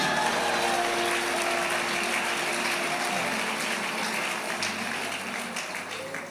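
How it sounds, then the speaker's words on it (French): Audience applause at a religious family-teaching gathering, a dense, steady wash of many hands clapping that carries on without a break and eases slightly toward the end. "Acclamez pour vous-même."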